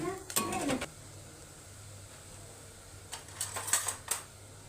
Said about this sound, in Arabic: بفضل اقلب فيه